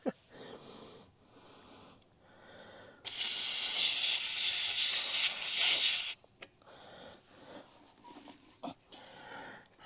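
The built-in air compressor of a JomGand JQP3750 jump starter inflates a tire, giving a loud, steady, close rush of hissing air for about three seconds. Quieter handling noises and scattered clicks come before and after it.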